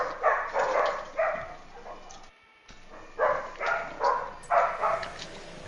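Dogs bark outside in a run of repeated muffled barks, several in quick succession, a short pause, then another steady series at moderate distance.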